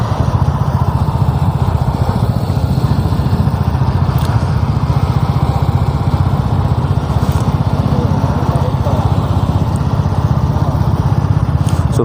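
A brand-new Royal Enfield 350 motorcycle engine runs with a steady, loud, close thumping rhythm throughout, holding an even idle-like beat with no voices over it.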